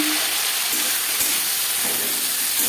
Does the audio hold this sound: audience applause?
no